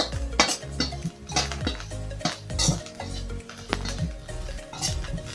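Omena fish being turned in a dry pan with a utensil, giving repeated metallic scrapes and clinks against the pan in an irregular rhythm, close and fairly loud, with no talking.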